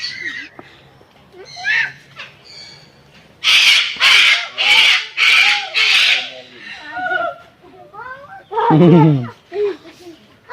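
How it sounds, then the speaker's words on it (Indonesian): A Bali myna in a bird aviary gives a series of loud, harsh calls in a rapid run of about five squawks, followed by more scratchy calls, with people talking nearby. "Yang warna putih ini nih. Curik, burung curik."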